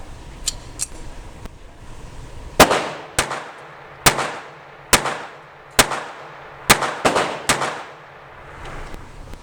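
Jennings J-22 pistol firing Federal ammunition, around ten sharp gunshots in a quick irregular string, close and loud, each followed by a short echoing tail.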